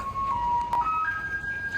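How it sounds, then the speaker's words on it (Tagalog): A garbage truck in Taiwan plays its melody, a bright electronic tune of held notes stepping up in pitch over a low street rumble, heard clearly at close range with no speech. "Ayan na yung garbage truck."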